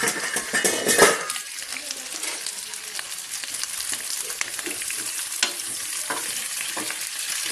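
Tofu and pork frying in a pan with a busy, crackling sizzle and clattering stirring of utensils against the pan, close and continuous, with a brief voice at times.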